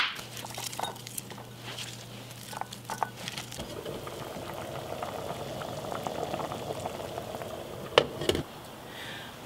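Lentils boiling in a pot for mujadara, a soft steady bubbling with occasional sharper clinks and knocks, a low hum running through the first few seconds, no talking.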